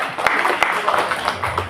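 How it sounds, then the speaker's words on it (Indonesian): Indoor audience at an elementary school gathering in Sintang, West Kalimantan, breaking into applause, a dense patter of claps with a few sharper individual hits, fairly close, blended with some talk in the room. "Tepuk tangan dulu Bapak Ibu."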